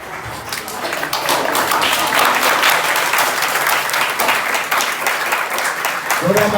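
Audience applause greets guests at a career counselling and mentoring event, a dense, steady wash of many hands clapping that fills the room throughout, with a voice briefly audible near the end.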